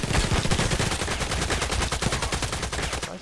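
Rapid automatic gunfire from Contract Wars rattles on in an unbroken burst of evenly spaced, loud shots for about three seconds, then cuts off abruptly.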